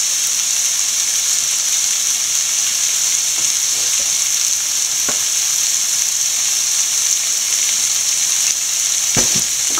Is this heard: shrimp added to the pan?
yes